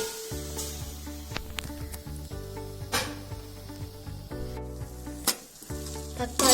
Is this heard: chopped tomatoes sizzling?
yes